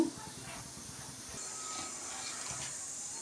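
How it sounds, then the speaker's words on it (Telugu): Oil warming in a pan before cucumber and tomato curry gives a soft, continuous hiss with faint sizzle at close range, quiet and steady throughout, with no one talking over it. "ఆయిల్ వేసానండి. ఆయిల్ వేడెక్కాలి."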